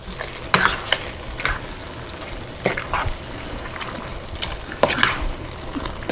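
Fajita mixture with gravy stirred in a sizzling pan, a steady close frying hiss broken by several scraping utensil strokes at an irregular pace, with no talking.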